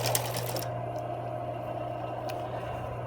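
A sewing machine stitching a medical mask cover hums with a steady, low motor drone at close range, with a few light clicks early on and a couple of faint taps later.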